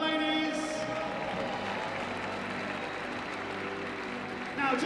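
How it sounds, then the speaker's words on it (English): Sustained applause from a crowd at an equestrian event's grand final podium, dense and steady throughout, with a faint tone near the start and rising slightly at the end. "Give them a round of applause."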